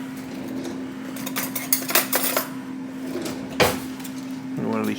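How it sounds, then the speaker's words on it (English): A microwave oven running in a home kitchen, its steady low hum continuing throughout while dishes and cutlery clatter nearby, then a short series of beeps near the end. "Microwave."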